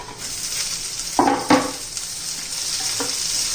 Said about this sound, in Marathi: आता आपण टोमॅटो घालून घेऊ